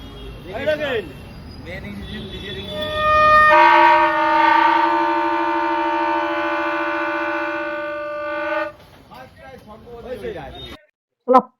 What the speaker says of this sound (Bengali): একদম পুরো অরিজিনাল সাউন্ড, যেমন ট্রেনের সাউন্ড হয়